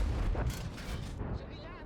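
Tank gun firing in a game on the Fisherman's Bay map, a heavy booming shot with rumbling tail, loud and brief, with a voice talking over it.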